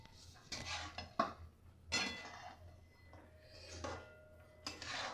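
Chili soybean is mixed in a pan, with a spoon or spatula knocking and scraping against metal in scattered, irregular clinks and clatters over a quiet background.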